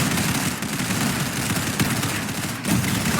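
Rapid gunfire from a shooting video game, bursts of automatic fire and sustained volleys crackling loud and dense throughout, with no talk over it.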